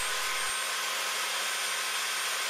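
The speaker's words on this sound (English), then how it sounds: "Flipping a handheld belt sander upside down and locking it in a vise is a perfectly safe way of doing this." A handheld belt sander, flipped upside down and clamped in a vise, grinds a metal pendant with a steady loud abrasive roar that holds unbroken throughout.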